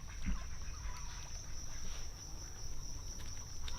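Crickets at a cricket farm in Cambodia keep up a steady, shrill, high trilling chorus, continuous and fairly close, with a low rumble of background noise beneath.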